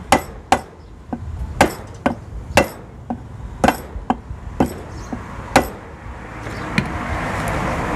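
A dozen or so sharp, solid knocks at a steady, slightly uneven pace, a rubber mallet tapping on an electric bicycle's brushless hub motor, close by with no talking.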